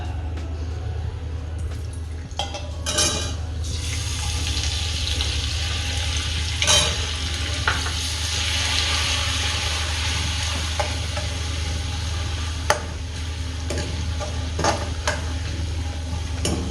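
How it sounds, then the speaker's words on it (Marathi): Garlic fries in oil in a pan with a steady, crackling sizzle that runs throughout, punctuated by occasional stirring scrapes and clinks, close and fairly loud. "आता त्याच्या अगोदर आपण थोडं तेल टाकून लसूण तळून घेणार आहे"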